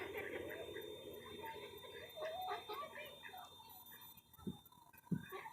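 Small ducks on a lake give a burst of quick, nasal calls in the near distance, with a few sharper squawks toward the end over quiet outdoor ambience.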